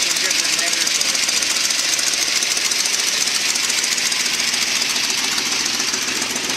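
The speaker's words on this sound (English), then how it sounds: "Got some header leaks from hell there." Boss 302 engine cold start with leaking exhaust headers, a loud, rough, steady clatter with rapid ticking pulses running without a break, close up.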